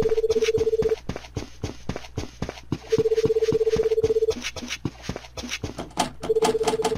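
A telephone rings in an RPG video game, three bursts of electronic trilling tones repeating over a steady rhythmic background beat.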